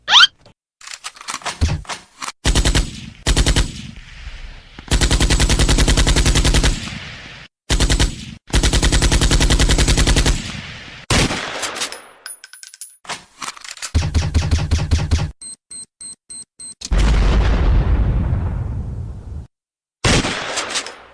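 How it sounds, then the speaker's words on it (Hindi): PUBG video game gunfire, bursts of rapid automatic shots and single cracks in loud, close clusters separated by short silences, with clinking sounds between volleys and no talking. "ये पबजी की आवाज कहाँ से आ रही है मेरे क्लास में?"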